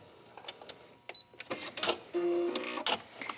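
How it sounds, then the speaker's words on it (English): A sewing machine top-stitches a thumbhole trim cuff on a long-sleeve top. Close, stop-start bursts of motor whir and needle clatter include one steadier run near the middle, with no talking. "Top stitch and sew down to the edge."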